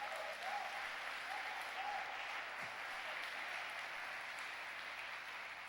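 A church congregation applauds continuously for several seconds, a dense, even wash of clapping heard from a moderate distance and fairly faint.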